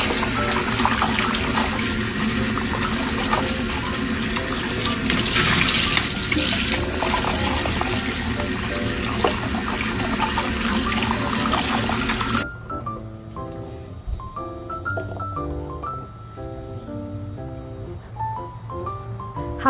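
Chestnuts for soup are washed under a running tap, the water rushing and splashing loudly and steadily for about twelve seconds before cutting off, leaving softer trickling and handling sounds near the sink.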